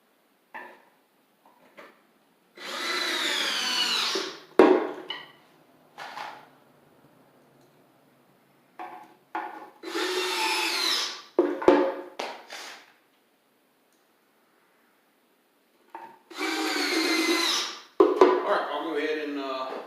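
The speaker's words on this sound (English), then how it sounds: "I'll go ahead and finish screwing all these together" A power drill drives Kreg pocket hole screws to join cabinet pieces, sounding as three separate whirring bursts of a few seconds each, with short knocks and quiet gaps between them.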